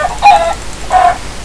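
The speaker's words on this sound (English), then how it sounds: "Yeah, sorry about me just killing a chicken." A chicken struck in the Minecraft video game gives two short, loud, clipped hurt clucks about two-thirds of a second apart, over a faint hiss.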